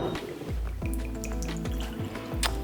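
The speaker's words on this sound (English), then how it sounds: "So we're going to pour you a gin." Gin pours from a bottle into a glass at a King Island distillery tasting, a steady gurgling, rising trickle of liquid with clear glugs, close and unaccompanied by talk.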